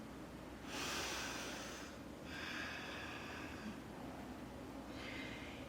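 Three soft, breathy exhales in a quiet room, close and faint, taken while holding a downward facing dog yoga pose.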